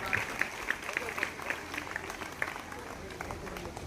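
A high school audience claps to welcome guests, producing a quick run of sharp, fairly even claps that softens toward the end, with voices mixed in around it.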